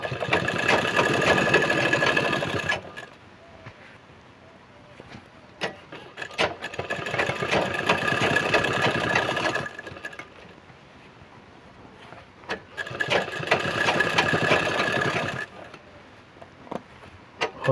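A sewing machine runs in three long bursts of rapid, buzzing stitching on trousers, each several seconds long and separated by quiet pauses, close and fairly loud.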